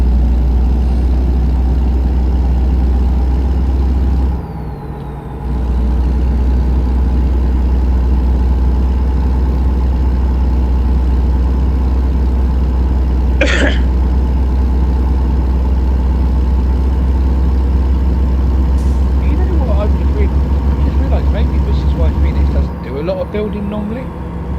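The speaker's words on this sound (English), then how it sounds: "reduce the noise of the engine as I'm ploughing along" A truck engine in American Truck Simulator drones steadily with a deep, low hum throughout, briefly dipping twice, while a voice talks over it.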